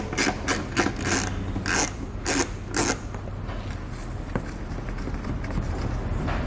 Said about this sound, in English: grab a T15 Torx bit and we'll pull those two bolts out